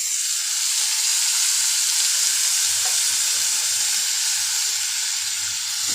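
Mango and tomato pieces fry with salt in a pan, producing a loud, continuous hissing sizzle with faint low stirring thumps partway through.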